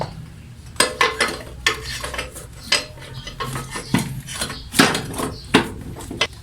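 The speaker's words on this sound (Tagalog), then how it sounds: "pwede nyo nang ilagay ngayon yung ating engine support" A car engine support being fitted into place, with irregular metallic clanks, knocks and scraping of parts and tools, close and sharp, with no talking.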